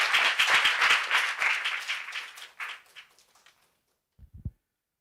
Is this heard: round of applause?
yes